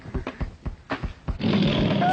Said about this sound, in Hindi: ये तो वाकई शेर की आवाज है